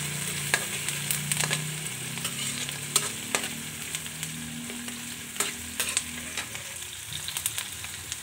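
Sweet chili sauce for crispy fried tilapia cooks in a pan with a continuous low sizzle and bubbling, punctuated by scattered clinks and scrapes of a utensil stirring, close and without talk.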